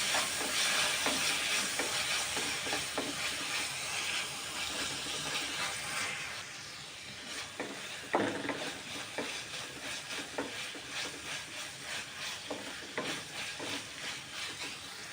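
Chopped tomatoes and onions fry in a pan for jeera rice. A strong hiss and sizzle fades a little after a few seconds, with intermittent stirring scrapes and clicks close by and no speech.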